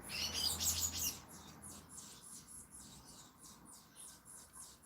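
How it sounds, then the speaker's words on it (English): Birds chirping outdoors, a quick bright burst of tweets at first, then softer repeated chirps continuing faintly over a quiet background. "That bird just on the outside."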